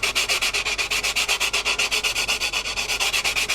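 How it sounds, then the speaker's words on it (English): Rapid, steady back-and-forth sanding strokes, close and loud, rasping in an even rhythm of about eight strokes per second with no talking. "I'm going to take my sanding stick here, and I'm going to actually just clean that off"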